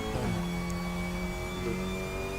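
A Cupra race car in the RaceRoom racing game drones with a steady, close engine note, its pitch dropping sharply at a DSG gearbox upshift early on and shifting again near the end.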